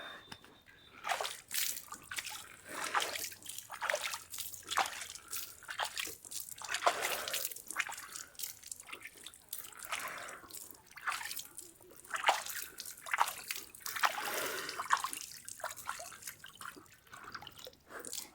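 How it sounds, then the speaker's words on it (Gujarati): Water is poured and splashed over a calf standing in the sun. Faint, uneven splashes and trickling drips come in repeated bursts, quiet and close by. "થોડુંક પાછા પાણી નાખીએ તડકો ન લાગે બિચારે."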